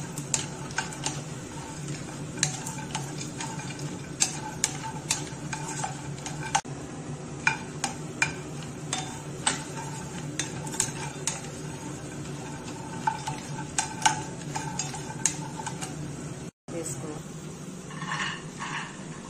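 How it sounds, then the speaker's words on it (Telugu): Almonds and coconut frying in a pan over a low flame, giving a steady soft sizzle under repeated light scrapes and clicks of a spoon stirring, while someone talks. "బాదం పప్పు, కొబ్బరి ఇప్పుడు ఈ మూడు వేయించుకోవాలి. లో ఫ్లేమ్లో పెట్టుకొని బ్రౌన్ కలర్ వచ్చినంత వరకు వేయించుకోవాలి."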